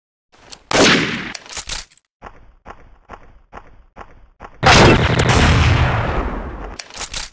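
A TMP submachine gun in the video game Special Ops fires in loud, close bursts: long sustained rattles at the start and end, with a string of short, evenly spaced shots in between.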